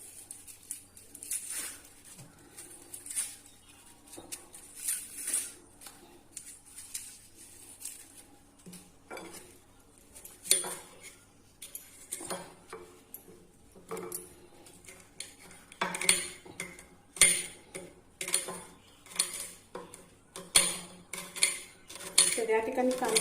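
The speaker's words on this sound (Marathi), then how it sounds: "तर आता आपण कांदे कापून घेऊया।" Knife chopping onions on a board, steady rhythmic taps that grow sharper and more frequent toward the end, close up with faint clinks of kitchenware, no talking.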